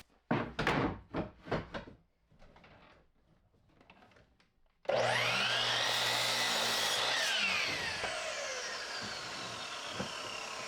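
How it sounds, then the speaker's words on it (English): Several short knocks of 2x4 boards being handled come first, followed by a miter saw that spins up loudly, bites through a 2x4 and then winds down while still running. "Measure those and cut them on a miter saw."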